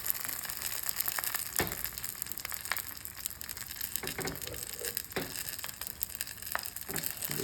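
A quesadilla cooks in butter in a pan, giving a soft, steady crackle and sizzle with scattered small pops and a few brief clicks, no talking.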